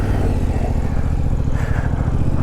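A motorcycle engine drones loudly and steadily nearby, its pitch holding mostly even with slight rises.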